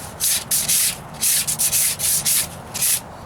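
Body filler on a Ford Ranger rocker panel is sanded by hand with 220 grit sandpaper: about eight loud, close, rhythmic back-and-forth rasping strokes with brief pauses between them, and no talking.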